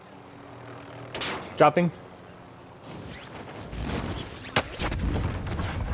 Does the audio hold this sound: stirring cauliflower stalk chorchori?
no